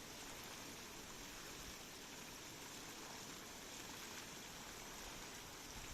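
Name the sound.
ocean waves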